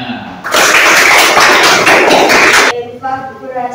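A whole classroom clapping together, a loud, dense burst of many hands lasting about two seconds, then stopping abruptly as a voice continues speaking.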